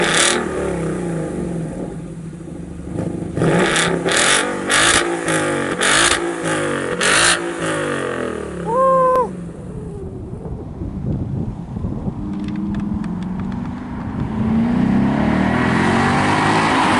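A Ford Mustang GT S550 Performance Pack with a Roush axle-back muffler starts up and revs several times in quick bursts, loud and close, then settles into a rumbling idle with some wind noise on the microphone.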